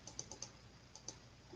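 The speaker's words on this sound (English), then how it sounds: "my keyboard decided to stop understanding what I'm typing" Quick light keystrokes on a wireless computer keyboard with a failing battery, a short burst of taps followed by a pause and a couple more, faint and close with no voices.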